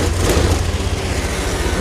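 A Honda Beat Street scooter engine that had been dead runs after restarting, a loud, close, steady idle rumble that holds without pause.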